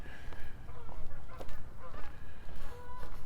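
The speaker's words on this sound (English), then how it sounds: "I hear geese calling up there" Canada geese honking overhead in late summer near a creek in Regina, repeated irregular nasal calls, fairly near and clear over outdoor background noise.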